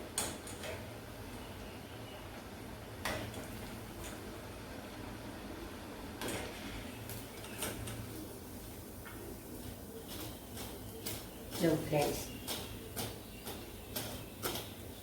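Medu vada made from rava batter with green chili deep-frying in hot oil: a soft, steady sizzle with scattered crackles and pops. A voice speaks briefly over it.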